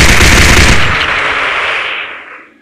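Rapid automatic gunfire from a gun in a video game, a loud continuous burst that fills the clip and then trails off near the end, with no voices.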